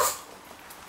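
Maltese dog giving a single quick, sharp sneeze right at the start, close by, followed by quiet room sound.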